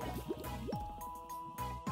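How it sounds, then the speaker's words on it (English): A cartoon mud splash as Shelly the shark flips into a mud pool: a few wet, squishy slaps and drips over bouncy background music. "Cover your eyes from the splash, Tucker."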